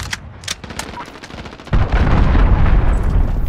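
A cruise missile strike landing in Call of Duty Modern Warfare multiplayer, scattered gunshots giving way to a sudden loud explosion that becomes a sustained, heavy roaring rumble.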